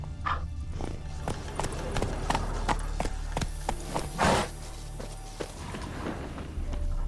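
Hooves of a horse walk at an even pace in The Witcher 3, a clear near clip-clop of repeated knocks over a low ambient game backdrop with a brief louder thump midway.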